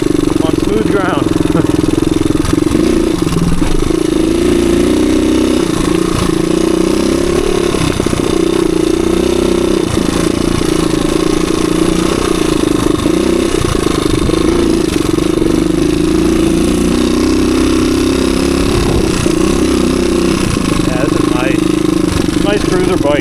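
A low-hour 1985 Suzuki DR250 motorcycle engine drones loud and steady while riding through a rocky wooded trail, with constant rattle and rumble underneath.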